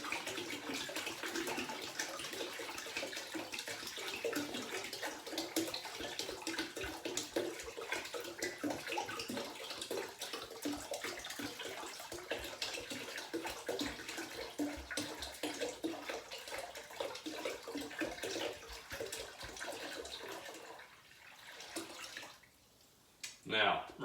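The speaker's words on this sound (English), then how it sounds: "add in my remaining gallon of water" Water pours steadily for about twenty seconds into a large wine fermenting bucket for grapefruit wine, a broad continuous splashing rush that tapers off near the end, with a few brief knocks.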